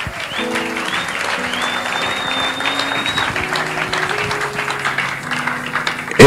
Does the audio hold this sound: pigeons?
no